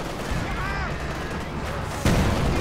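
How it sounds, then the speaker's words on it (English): Artillery barrage in Company of Heroes 2: a dense, continuous rumble of distant gunfire and shelling with a heavier blast near the end, heard under faint voices. "Big barrage is going."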